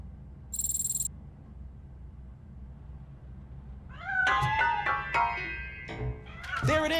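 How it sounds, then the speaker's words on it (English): A cat meows several times in the RoboCop: Rogue City video game, close and clear, the calls arriving in a cluster after a brief high electronic tone over a low steady background hum. "That cat must be hiding inside."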